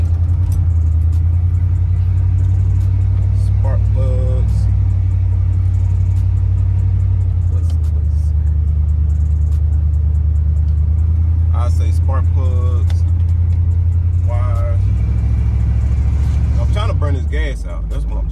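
A Chevy box car engine idling steadily to burn off old gas, a loud, continuous low rumble throughout, with someone talking over it at times.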